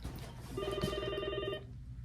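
A hotel room telephone at Pod 39 in New York rings with one electronic trill burst of about a second, moderately loud over a quiet room.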